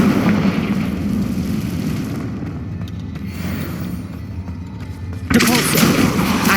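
Explosive blasting spell bursts from a wizard combat scene in Hogwarts Legacy, a dense booming rumble with crackling gunfire-like blasts that swells sharply near the end, loud and continuous without speech.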